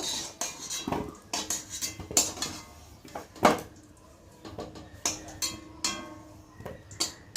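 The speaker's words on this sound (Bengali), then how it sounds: "আলুগুলোকে ভাজা হয়ে গেছে আলুগুলোকে এবার তুলে নেব" Fried potatoes being lifted out of a pan, with a metal utensil clinking and scraping against the cookware in repeated, irregular close clatters separated by brief pauses.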